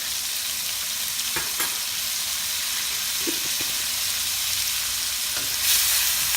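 Minced garlic frying in a pan with pork belly and vegetables: a steady, fairly soft sizzle and hiss with a few light stirring knocks, heard close and alone without talking.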